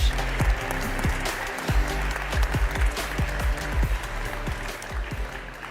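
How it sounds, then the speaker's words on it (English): An awards ceremony audience applauding a design award winner, with dense, sustained clapping from a large crowd in a hall, steady and fairly loud across the whole stretch, with no voice over it. "So a huge round of applause just one more time for Mano."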